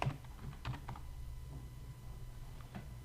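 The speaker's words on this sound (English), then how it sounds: "So I'm typing here." Keyboard typing during Photoshop design work: a brief cluster of soft, close keystrokes at the start, then scattered lighter clicks over a steady low background hum.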